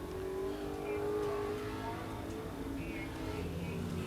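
Chevrolet Lumina stock car running a qualifying lap at Grundy County Speedway, a steady engine drone heard from a distance with a faint rise and fall in pitch, mixed with crowd and track ambience.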